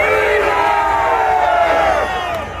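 A bar crowd at a band concert in Florida shouts loudly for a song, a dense, sustained roar of many voices close by that eases slightly at the end.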